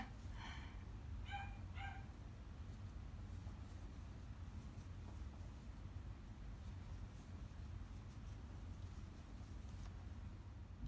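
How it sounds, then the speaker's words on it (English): Three faint, high-pitched barks sound early on, somewhat distant, then give way to a steady low hum for the rest. "My dog is barking because she wants to be here."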